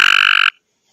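A loud, rapid croaking mating-call trill from a frog, close up, ending abruptly into silence after half a second.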